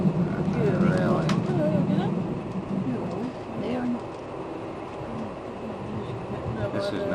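Inside a moving train on a journey through Norway and Sweden, a constant low rumble and rattle carries on throughout. Faint squeaks and creaks come through, and a voice talks under the noise.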